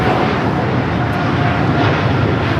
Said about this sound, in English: Korean Air Cargo 8208 taking off to Seoul on the 777 freighter.